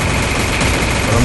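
Rapid burst of gunfire in the mobile battle royale game Free Fire, loud and dense across a short stretch, with a voice talking over it.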